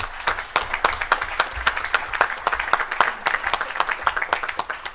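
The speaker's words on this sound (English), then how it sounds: "I would like everybody to give them a round of applause." An audience at an ARIN member event applauds the fellows, a dense, steady round of many hands clapping together that stays loud and close for the whole stretch, with no voices standing out.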